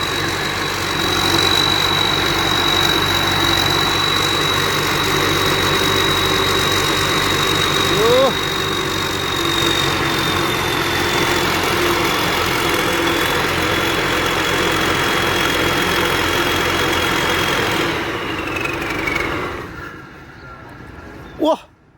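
A combine harvester's engine idles with a loud, steady rumble and a faint whine for most of the stretch, then winds down and falls silent near the end.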